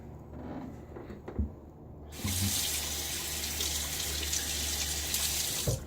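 Water runs steadily from a tap into a sink while shaving lather is made for a Cella shaving soap and badger brush test; a constant, loud hissing flow starts after a few quiet seconds with light handling sounds.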